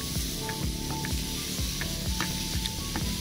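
Beef pieces sizzling on a morning barbecue grill in the mountains, a steady loud hiss with crackling pops throughout, close and continuous with no talking.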